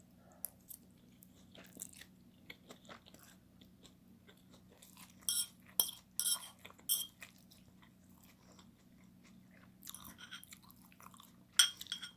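Close, quiet chewing and crunching while eating A-Sha Mandarin noodles with extra spicy ghost pepper sauce, cilantro and vegetables, with soft irregular bites and mouth sounds over a low steady hum and no talking.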